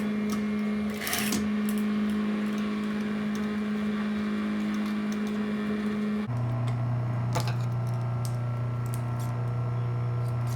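A domestic sewing machine top-stitches a fly facing for a zipper, running as a steady motorized hum with a constant whirring tone throughout, briefly shifting pitch midway as the speed changes, with no talking.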